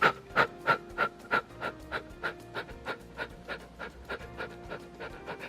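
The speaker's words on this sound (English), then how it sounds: "the Breath of Fire is all about very quick but powerful short exhalations" Breath of Fire yoga breathing: a steady run of quick, forceful exhalations pumped out in even rhythm, about two per second, close and fairly loud, with no talking.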